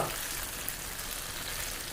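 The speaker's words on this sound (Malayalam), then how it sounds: "ഇപ്പോൾ തൽക്കാലം ഉള്ളത് ഇതിങ്ങനെ പൊരിക്കുകയാണ്" Oil sizzles steadily as jackfruit fries in a pan, a constant crackling hiss with no voices.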